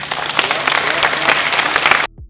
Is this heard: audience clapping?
yes